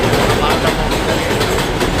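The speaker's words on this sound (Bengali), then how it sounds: "আরেকটি ট্রেন ঢুকলো।" Train pulling into a New York station, a steady loud rumble with rhythmic rail clatter filling the whole stretch.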